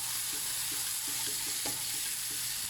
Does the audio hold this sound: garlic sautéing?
yes